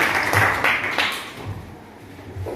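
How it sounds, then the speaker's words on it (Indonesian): A school class claps for a student's project presentation, a short loud burst of hand claps that fades within a couple of seconds. "Oke, kasih tepuk tangan."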